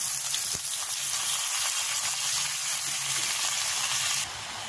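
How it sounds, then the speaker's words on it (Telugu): A loud, dense sizzle of ridge gourd pieces dropped into hot tempering oil in a pan, frying steadily up close with faint stirring, then easing slightly near the end; no talking. "ఈ పోపులో ఇలా పోపు దొరగా వేగిపోయింది కదండి, ఇప్పుడు మనం బీరకాయ ముక్కలు వేసుకోవాలి."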